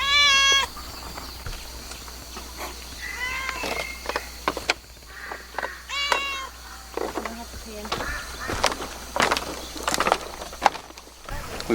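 A cat at a riverside guest house in Nong Khiaw, Laos, gives a series of short, clear meows spread across the clip, some close and loud, with quieter background noise and occasional voices between them.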